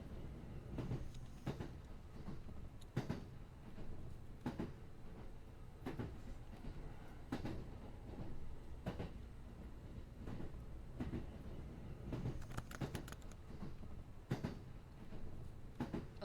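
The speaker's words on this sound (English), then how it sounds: "What the hell is that sound? Train." Train in the video game Bokura, a quiet steady rumble of rolling carriages punctuated by periodic sharp clacks from the rails, continuing without talk.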